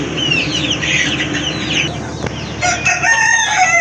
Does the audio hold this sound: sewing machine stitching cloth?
no